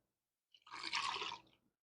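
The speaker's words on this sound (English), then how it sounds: "I'm adding in half a cup of water" A short splash of half a cup of water poured into a blender, swelling for about a second and then stopping, close and moderately quiet.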